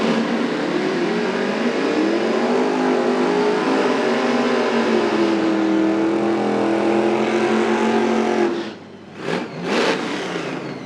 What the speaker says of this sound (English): Brian really shortened up that burnout, so he must be getting this tonight.